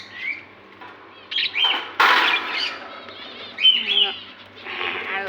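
Small birds chirp and tweet in short bursts, mixed with bursts of wing flapping, fairly close, with a loud flurry near the middle; no one speaks.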